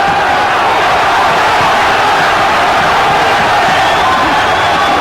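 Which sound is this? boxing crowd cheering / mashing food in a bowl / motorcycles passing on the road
boxing crowd cheering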